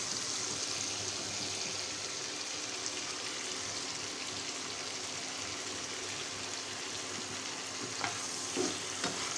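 Capsicum and onion cook with paneer in a pan for chilli paneer, giving a steady, close sizzle and hiss that runs unbroken, with a few small pops toward the end.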